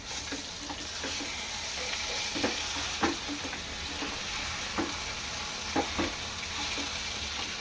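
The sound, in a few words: stuffed eggplant masala frying in a pan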